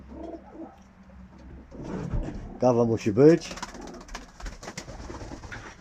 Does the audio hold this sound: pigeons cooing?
yes